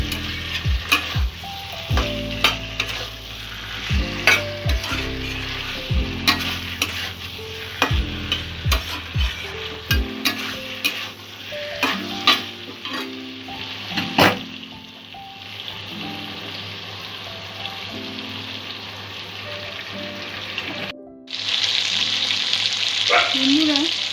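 Jackfruit sautéing with spices in a pan, with a steady sizzle under frequent scraping and knocking stirring strokes, close and moderately loud.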